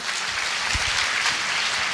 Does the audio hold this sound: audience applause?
yes